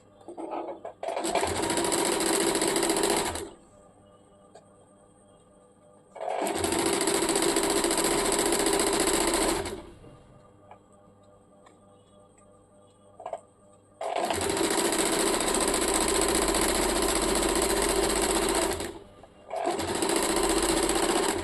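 A sewing machine runs in three long bursts and a shorter fourth, stitching the folded hem of a salwar leg, with quiet gaps between runs and no talk over the stitching.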